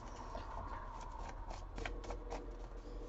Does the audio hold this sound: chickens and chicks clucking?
no